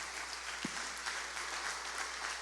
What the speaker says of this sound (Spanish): Vamos a darle un fuerte aplauso a Dios por su palabra